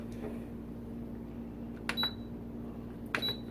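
A NuWave countertop oven's control panel gives two pairs of short, high electronic beeps as settings are keyed in, clear over a steady low hum of the running appliance.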